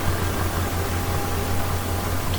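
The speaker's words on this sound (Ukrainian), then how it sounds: "Диски, як завжди, тягне трактор без проблем." A steady, droning tractor engine rumble pulling a disc harrow through wet, heavy soil, with a constant low hum and broad noisy hiss, unchanging throughout.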